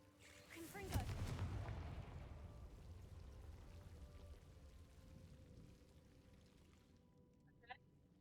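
The Confringo fire spell goes off in Hogwarts Legacy as a sudden burst followed by a rushing, crackling roar that slowly fades over several seconds, with a small sharp click near the end.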